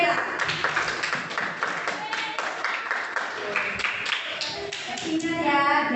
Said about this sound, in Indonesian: Tepuk tangan dulu buat si Kela.